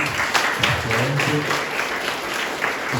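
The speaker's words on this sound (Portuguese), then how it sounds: "Uma salva de palmas." Applause fills a community gathering during a church novena for Saint Francis, steady clapping from the congregation with a voice or murmur mixed underneath throughout.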